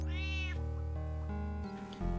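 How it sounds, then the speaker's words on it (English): Lola the cat meows in several distinct versions played back as a stream sound alert, tonal, drawn-out mews running one after another with clean, steady levels. "It's a bunch of different versions of her meow."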